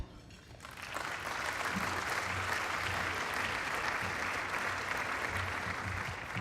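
A large audience at a sports business speaker series breaks into steady, sustained applause for a speaker's introduction, rising within the first second and holding full and even throughout.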